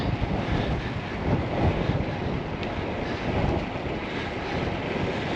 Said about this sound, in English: it's a bit of a windy pushback